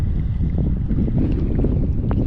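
Steady wind buffets the microphone with a low, continuous rumble, gusting slightly throughout with no voices.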